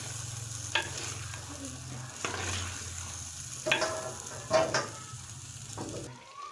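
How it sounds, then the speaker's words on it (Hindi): Potatoes frying in spice masala in a pan, a soft continuous sizzle broken by several scraping stirs of a spoon, close up, with no voices. "अब हम इनको अच्छी तरह से इस मसाले में भून लेंगे।"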